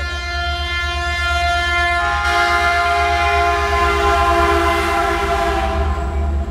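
A train sounds a loud, sustained multi-tone horn close by, a steady blaring chord that swells midway over the low rumble of rolling rail cars.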